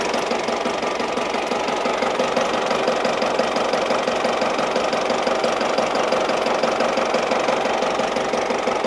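A large Ford van engine idles steadily and close by, with an even rhythmic knock and a constant rumbling drone and no voices.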